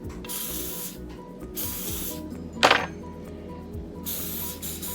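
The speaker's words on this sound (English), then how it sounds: "Spray your file." Several short hissing bursts from an aerosol can of mold release sprayed onto a file, close by, separated by pauses, with a faint metallic clink in the middle.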